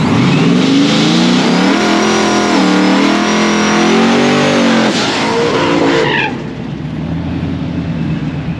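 A race car at Holley LS Fest Texas runs hard under acceleration, its loud engine climbing and shifting with tire noise for about six seconds before it fades off into the distance.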